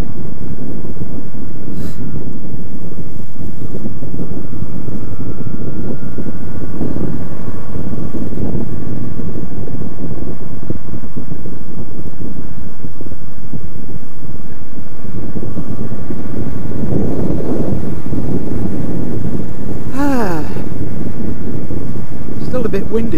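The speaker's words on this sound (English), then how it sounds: "Still a bit windy today too." Wind buffets an outdoor microphone in a steady, loud rumbling roar with gusty swells that lasts throughout, no voices breaking through.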